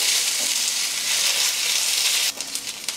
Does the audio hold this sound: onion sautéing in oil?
yes